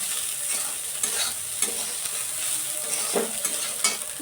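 Food fries in a pan with a constant bright sizzle, broken by repeated scraping and stirring strokes of a utensil, close and loud, with no talk.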